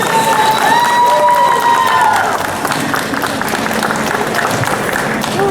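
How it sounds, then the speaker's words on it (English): A crowd at a cosplay contest applauds and cheers loudly, with whistles and shouts over dense clapping that eases slightly toward the end. "Let's give him one round of applause."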